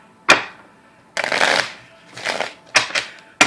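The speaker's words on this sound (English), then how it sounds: "Two more shuffles" A deck of tarot cards is shuffled several times in quick riffling bursts, with short pauses between them, close and clear.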